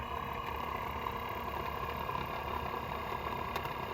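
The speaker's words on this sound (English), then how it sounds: "Let's listen to the sound of this motor." Motor of a 1981–1985 Mercedes cruise control actuator running on the bench, a steady grinding whir that stays even in level for the whole stretch, close and fairly quiet, with no speech.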